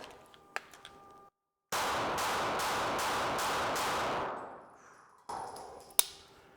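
Rapid pistol shots in a low-light drill, fired with a two-handed grip while a handheld light illuminates the target: a dense, loud burst of about five close reports lasting a few seconds, then quiet and a sharp metallic ping.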